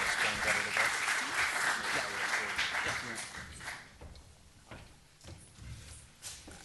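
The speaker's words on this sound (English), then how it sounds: "Please give these gentlemen a round of applause." Audience applauding speakers at a talk about living with water in New Orleans, a full burst of clapping that tapers off over several seconds into scattered claps and room noise.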